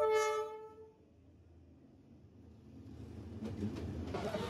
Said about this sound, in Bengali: এই জাস্ট ট্রেন পাস হয়ে গেল।